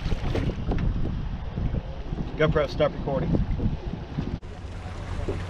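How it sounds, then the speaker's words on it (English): A tour boat carrying about fifty tourists passes nearby on the water off Cumberland Island, its engine a steady loud rumble with heavy wind noise. A voice booms over its loudspeaker, and people nearby talk. "that boat was going by and it was so loud because there's a guy talking on a loudspeaker"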